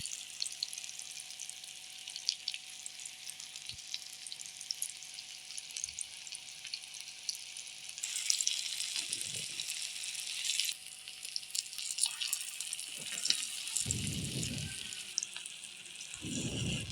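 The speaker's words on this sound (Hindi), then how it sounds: "इस कबाब को इसमें थोड़ा सा फ्राई कर लेंगे" Shami beef kebab frying in a little oil over a very low flame, a steady faint sizzle with watery hiss that swells midway, plus a few soft low thumps from the pan.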